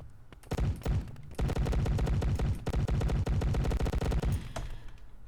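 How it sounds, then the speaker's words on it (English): Rapid automatic gunfire shooting zombies in a Unity first-person shooter game, dense bursts of sharp close shots rattling almost continuously for several seconds with a few short gaps. "And I can shoot them and they will stop chasing me."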